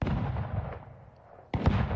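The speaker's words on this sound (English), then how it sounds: "I had little markers for these cannon shots over here." Cannon shots from a pirate sea battle in a redesigned film soundtrack: a rumbling blast that decays, a short lull, then a second sharp, loud boom at close range, with no voices.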